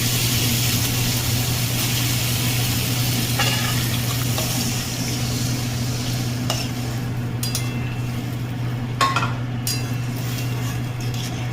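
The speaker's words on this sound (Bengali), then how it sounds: "এবার আমি পরিমাণ মতো জল দিয়ে দেবো।" Water pours steadily into a sizzling pan of spice paste for a Bengali katla fish muitha curry, a continuous hiss and splash with faint stirring clicks and no talking.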